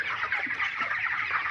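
Chickens on a poultry farm cluck continuously, a dense, close chorus of overlapping hen calls with no talking.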